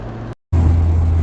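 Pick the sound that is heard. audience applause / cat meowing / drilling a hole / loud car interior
loud car interior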